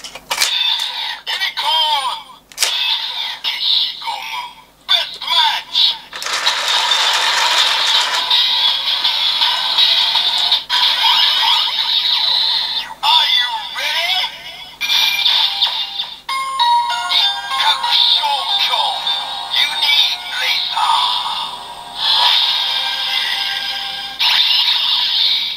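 A Kamen Rider Build DX Unireaser toy plays its electronic sound effects and announcer voice lines in quick, choppy bursts, loud and close, with brief pauses and clicks from handling in between.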